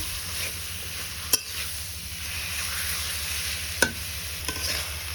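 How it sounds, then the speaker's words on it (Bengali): Boiled greens sautéed with mustard paste and chili paste, a low steady sizzle with two or three sharp clicks of a spoon against the pan. "দিয়ে দিলাম একটু সরিষা বাটা মরিচ বাটা এগুলো ভালো করে কষিয়ে নিলাম"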